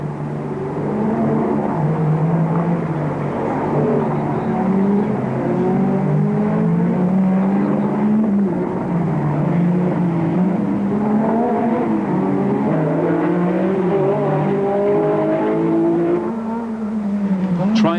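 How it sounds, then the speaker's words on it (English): Rally cars race flat out on a long special stage of the 1985 World Rally Championship, including a Renault and a Porsche, engines revving and changing pitch loudly and continuously with a commentator talking over the noise. "Try as they might, no one can catch the Renault of Ragnotti, who is driving his heart out."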